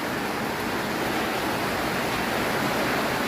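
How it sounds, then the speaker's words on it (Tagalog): Steady, loud rushing water with no letup, pouring in through a large hole nearby. "Kaya yung tubig napasok na dito."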